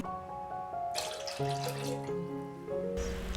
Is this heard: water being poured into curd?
yes